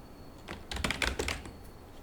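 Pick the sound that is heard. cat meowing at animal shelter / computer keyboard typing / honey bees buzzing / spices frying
computer keyboard typing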